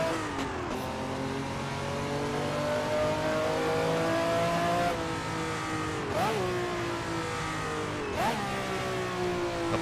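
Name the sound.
Ferrari 312/67 V12 engine revving in Assetto Corsa video game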